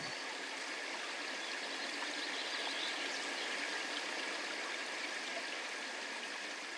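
Soft, steady trickle of water at a quiet forest pond among trees, a continuous faint hiss with no pauses or voices.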